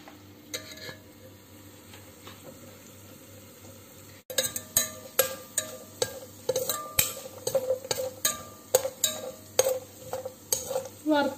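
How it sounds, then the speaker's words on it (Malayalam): Cashew nuts fry in a pan for an Onam dish, starting with a quiet sizzle before a spoon begins stirring in a steady rhythm of sharp scrapes and clinks against the metal, close and clear. "നമ്മൾ കശുവണ്ടി ഇട്ടേക്കാണ് വറുത്തെടുക്കുകയാണ്."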